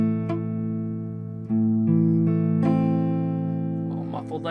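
Guitar chords strummed and ringing out, with one string muted by a leaning finger, several strums sustaining and decaying up close, alone without speech.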